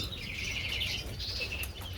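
Breeding birds chirp and twitter in a bird room, a steady busy layer of high tweets over low background hum, continuous throughout with no voices.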